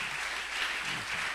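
A church congregation applauds, with dense, steady clapping that fills the space at an even level throughout.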